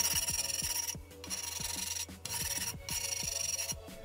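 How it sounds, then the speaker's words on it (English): A grindstone rubbing along the cut edge of a tile for a shower bench, heard as steady, close, rasping strokes in a repeated back-and-forth rhythm, with brief pauses between passes and no voices. "Let's quickly hit it with the grindstone to soften out this cut edge here."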